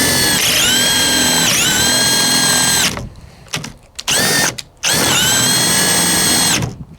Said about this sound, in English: That's a lot of drill bit to push out of a 1/2 inch drill, especially a compact one.